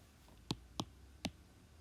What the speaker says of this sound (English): I'm going to start by pressing 2, enter, because that's my first X value. Then 4, enter, 8, enter, and so on.